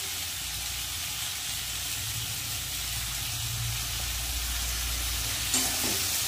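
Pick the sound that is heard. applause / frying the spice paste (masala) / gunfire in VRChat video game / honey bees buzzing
frying the spice paste (masala)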